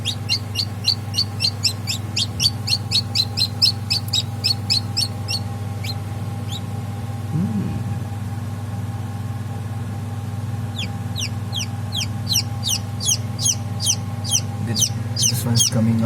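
Kadaknath chicks hatching from eggs in an incubator chirp in rapid runs of high peeps over a steady low machine hum, with a quiet stretch in the middle before the chirping returns.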